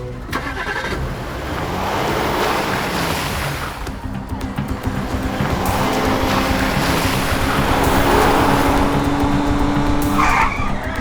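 A car driving in a Roblox game, with a steady engine drone and tyres skidding and hissing throughout, loud and close, building slightly toward the end with a bright screech near the last second.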